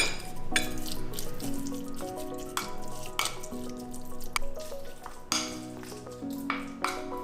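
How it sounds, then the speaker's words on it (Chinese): A spoon stirs a marinade mixture with sugar and pepper for glutinous oil rice in a bowl, with soft wet scraping and clinks in a steady rhythm, close by, over gentle background music. "搅拌均匀。"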